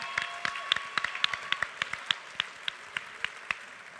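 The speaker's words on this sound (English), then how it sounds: "how about another round of applause for our band" At an awards show, a small audience claps for the house band, with sparse, distinct hand claps rising above a thin background of applause that tapers off over a few seconds.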